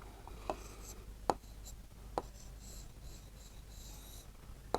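A pen scratches Urdu script onto paper, soft close rubbing with a few sharper taps as strokes begin and end, all quiet over low room noise.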